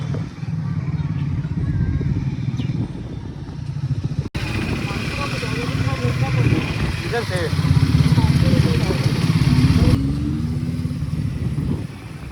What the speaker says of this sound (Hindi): लोग मोटरसाइकिल से आए हैं। अब वापस जा रहे हैं।